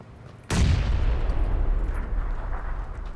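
A grenade explodes in the video game PUBG with a single sudden loud blast, followed by a deep rumbling decay that lingers for several seconds, with no talk.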